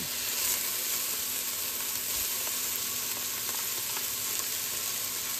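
Garlic frying in a pot of thick, drying chili base, a constant close sizzle and crackle with a light stirring scrape and no one talking.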